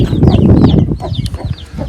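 Crested chickens clucking and cackling close by, with a dense low barnyard rumble and a few sharper bird calls breaking through.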